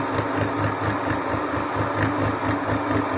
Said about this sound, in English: This is the final gear produced by using milling machine.